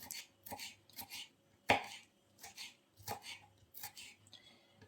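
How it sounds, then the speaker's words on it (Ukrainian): A knife chops a bell pepper on a cutting board in a run of about eight crisp, unevenly spaced strikes, close and fairly quiet. "ріжемо перчик болгарський, а який є, такий ріжемо"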